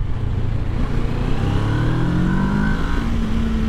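A twin-cylinder motorcycle engine drops to second gear and pulls hard, its pitch climbing steadily as it accelerates, loud and close with steady wind rush underneath.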